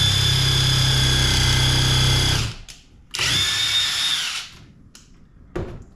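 A Seesii WH700 3-in-1 impact tool in drill mode bores a hole through an unclamped board, a loud high whine running for two bursts with abrupt stops and a brief final blip.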